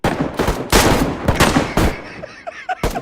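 Rapid bursts of gunfire in the survival game DayZ, several loud close volleys and single shots in quick irregular succession, with brief gaps between them.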